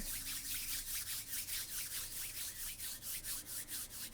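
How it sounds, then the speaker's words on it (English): Hands rubbed briskly together in a quiet meditation setting, a steady rhythmic swishing friction that repeats evenly throughout, close and soft, with no voices. "rub your hands together"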